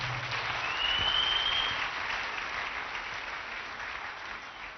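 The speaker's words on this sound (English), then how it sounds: "Give Jesus a clap offering." Church congregation applauding, a dense sustained wash of clapping that swells early, then slowly fades, filling the room without any talk.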